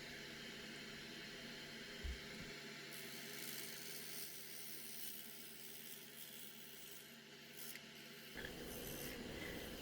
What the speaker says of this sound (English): Using the bowl gouge still to work on the bottom and the mortise, the foot.